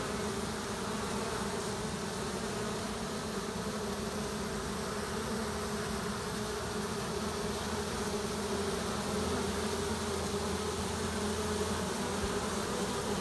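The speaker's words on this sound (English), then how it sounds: "The bees are continuing to march in" A honey bee swarm marches into a hive box, a dense continuous buzzing drone of many bees, steady and close, alone without voices.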